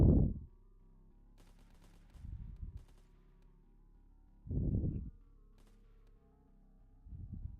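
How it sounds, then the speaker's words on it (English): Gunshots in the Happy Hills Homicide video game, several short low, booming bursts spaced a couple of seconds apart over a quiet background hum. "I can still practice my gun shooting skills."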